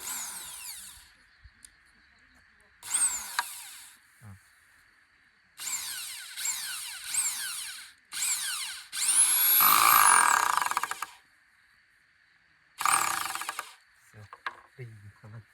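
A power drill whirs in short bursts, driving screws into wood while building a compost box, with pauses between runs and one longer, louder stretch near the end.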